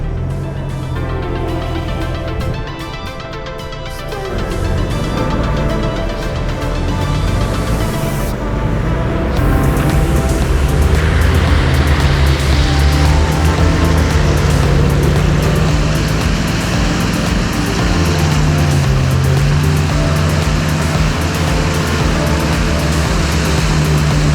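A 4x4 vehicle crawling in low range gear, a loud, close engine drone with rich low harmonics that climbs in pitch as it revs and holds steady, sustained throughout.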